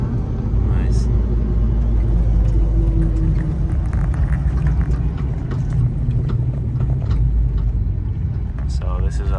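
A Hennessy Raptor off-road, street-legal truck drives along, its engine and road noise forming a steady loud cabin rumble under constant conversation among the passengers.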